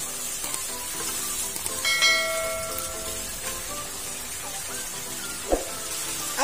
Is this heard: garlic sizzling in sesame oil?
yes